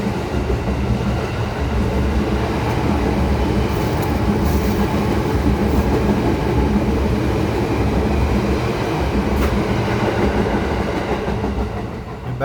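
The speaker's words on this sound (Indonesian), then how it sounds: "Kereta" A train rolls past with a loud, continuous rumble and wheel clatter that holds steady for the whole stretch, with a few faint squeals on top.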